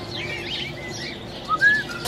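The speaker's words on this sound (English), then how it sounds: "That's a big bird" A large bird at a zoo gives a few short chirping calls, with one clearer, slightly louder call rising near the end over faint outdoor background.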